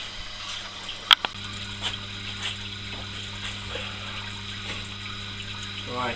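Wort from a double IPA mash recirculates with a steady trickle and gurgle of flowing liquid and a low pump hum, heard close up with a few brief knocks and no speech.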